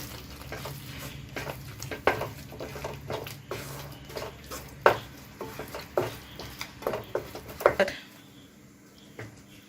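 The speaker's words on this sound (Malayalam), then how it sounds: "രണ്ട് ടേബിൾ സ്പൂൺ മല്ലിപ്പൊടി നന്നായിട്ടൊന്ന് ഇളക്കി" A spoon scrapes and stirs through mutton curry in a pan with coriander powder going in, giving irregular knocks and scrapes over a low, steady sizzle, close and moderately quiet, fading out near the end.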